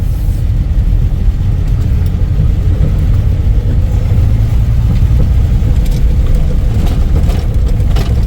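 A Dodge Aspen car engine runs steadily while driving, a loud, constant low rumble from inside the cabin with no clear rise or break as gears change and no speech.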